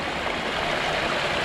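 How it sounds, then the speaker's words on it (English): Water rushes steadily through a broken dam in a continuous, loud, broadband roar. "there is a lot of water going through there"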